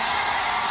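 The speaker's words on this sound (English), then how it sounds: "There's a blow dryer." A hair blow dryer in a bathroom runs steadily as a continuous, loud broadband whoosh, with no talking.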